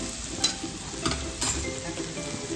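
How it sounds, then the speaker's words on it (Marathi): Basmati rice roasting in oil and ghee in a pan for chicken biryani, a soft close sizzle broken by a few louder scraping stirs, with no talk. "3 ते 4 चमचे तेल व थोडंसं तूप टाकायचं आहे व त्यामध्ये हा बासमती तांदूळ आहे याला छान असं भाजून घ्यायचं आहे."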